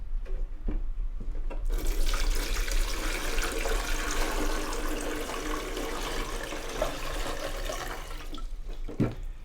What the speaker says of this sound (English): add the premixed water and nutrients to the reservoir by pouring it directly through the net